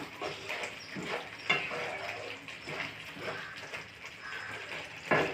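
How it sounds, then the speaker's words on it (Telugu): Cashew curry in a pan bubbles and simmers steadily, a soft continuous wet crackle with occasional louder pops and stirring scrapes, close by with no talking. "ఉడుకుతుంది ఇదిగోండి కర్రీ అయితే దగ్గరికి వస్తుంది"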